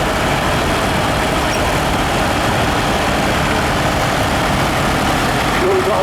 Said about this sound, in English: We've got a lovely Massey Ferguson 35 here.